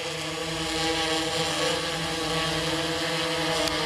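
A DJI Inspire 1 drone hovering low near the ground with its landing gear lowering, a steady loud buzzing whine of propellers that stays constant and close, with no talking.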